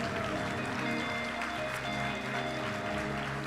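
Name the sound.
applause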